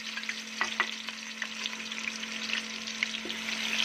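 One chopped onion hits a cup of hot oil in a pot for moong dal, producing a continuous bright sizzle with scattered spits and crackles, steady and close, with no voices.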